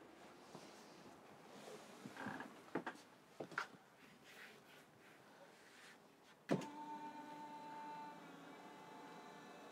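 Electric bed motor in a 2021 Benimar Tessoro 487 motorhome, a low whirring drive with a few clunks midway, then a sharp thump and a steady motor tone that keeps running, close and fairly quiet.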